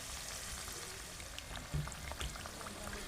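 Vegetable pitha fry in ghee with a soft, steady sizzle and faint bubbling, quiet and continuous, with a couple of light knocks near the pan.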